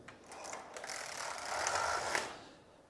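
A Passap Duomatic 80 double bed knitting machine knits a row, its carriage sliding across with a rattling, ratcheting mechanical whirr that swells briefly and then fades, close and fairly quiet.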